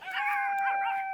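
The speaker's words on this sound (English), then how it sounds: "the doggy start bark on me" Puppies next door at a Bulgarian bungalow let out a high, drawn-out howling yelp, a single sustained whining cry heard from a short distance, fairly faint and alone.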